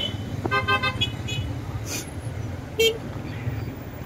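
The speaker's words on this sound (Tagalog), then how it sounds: "Masyadong traffic guys." Busy city street traffic with a constant engine rumble, several short car horn toots near the start, and more honks later, all close by with no talk.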